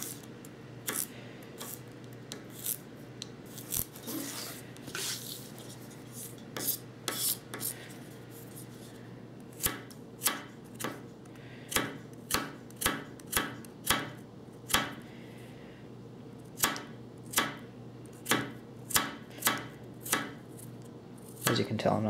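A hollow-ground knife slices through carrots on a cutting board, making a series of sharp crisp chops, irregular at first and then falling into a quicker, steady rhythm, close and clear.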